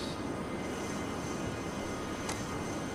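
Turbine jet engines of a Learjet 45 in Flight Simulator X, a steady broadband roar that holds evenly throughout, with one brief higher-pitched tone rising near the end.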